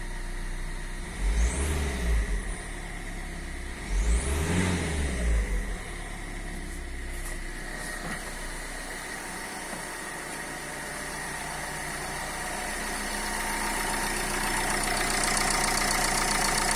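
A 2005 Renault Scenic 2 with a 1.5 dCi K9K diesel engine and six-speed manual gearbox runs nearby, revving twice in short bursts, then settling into a steady, even idle rumble.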